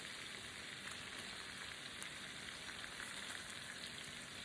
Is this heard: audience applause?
no